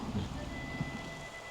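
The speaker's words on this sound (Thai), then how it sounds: "อันนี้คือเสียงฝนในยามเช้า" Morning rain falls over a rural forested village near the Vietnamese border, a soft steady hiss with a low rumble underneath, faint and even throughout with no voices.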